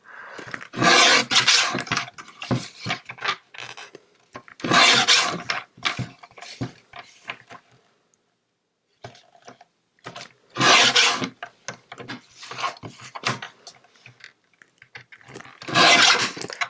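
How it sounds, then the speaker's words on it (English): Scissors or a blade cut a sentiment from the inside of a Christmas card, short bursts of crisp paper snipping and rustling separated by quiet pauses, close and fairly soft. "I'm also going to cut this sentiment out of the inside of the card."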